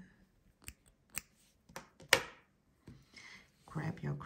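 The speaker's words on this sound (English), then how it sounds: "Now chain 1, pull tight, and you can cut the yarn." Scissors snip yarn at the end of a crocheted bookmark, several short sharp clicks close by, with a person talking toward the end.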